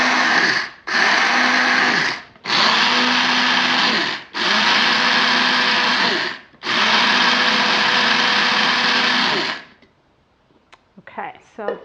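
Electric coffee grinder coarsely grinding coffee beans, a loud steady whirring roar in four long bursts with brief pauses between, then stopping into near silence with a few faint clicks.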